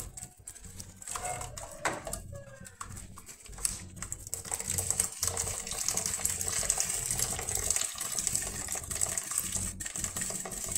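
Chile sauce pours through a kitchen strainer while chiles rellenos are being made, giving a steady soft liquid rush with small scraping taps early on, fairly quiet and continuous.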